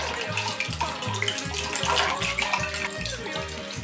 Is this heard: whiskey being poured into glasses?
yes